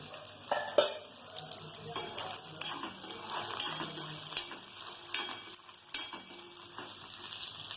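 Coriander seeds with dried red and green chilies frying in a pan for tamarind rice, a soft sizzle broken by scattered spatula scrapes and clinks against the metal pan.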